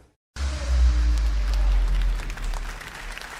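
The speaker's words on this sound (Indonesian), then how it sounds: "Segenap hati tepuk tangan bangga atas nama Yesus." Church congregation clapping hands in worship, a dense burst of applause starting suddenly after a brief silence, loud and close with heavy low rumble, fading slightly toward the end.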